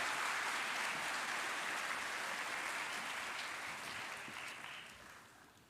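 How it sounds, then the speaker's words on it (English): Dense, steady applause from an audience at a Ministry of Education award ceremony honouring primary school pupils. The clapping fills the hall without a break and fades gradually toward the end. "give them a round of applause, please"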